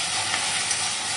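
Okra frying in a pan with salt and turmeric, giving a loud, steady, even sizzle that holds the whole time with no talking.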